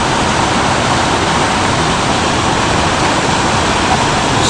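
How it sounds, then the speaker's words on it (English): Chuck Ridge Creek Falls roaring in the Pisgah forest, a loud, dense and unbroken rush of falling water heard up close with no voices over it. "Chuck Ridge Creek Falls."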